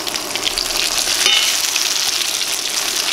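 Potato latkes sizzle steadily in a frying pan just after being flipped, a close, even hiss of hot oil with no voices over it.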